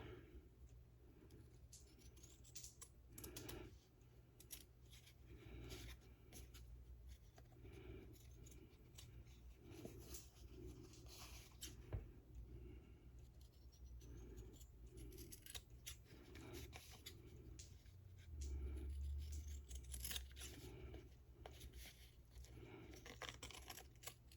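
Scissors cutting fabric while sewing tags and pockets, a steady series of soft, close snips and crisp clicks repeating throughout over a faint background hum.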